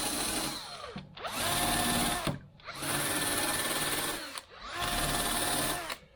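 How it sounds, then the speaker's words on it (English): A wire cup brush on a power drill whirs and scrubs threaded studs on a Range Rover's rear quarter panel in three long runs, each separated by a brief pause, close and fairly loud. "I'm just going to clean the end of each of these threads up first and foremost with the wire cup drill"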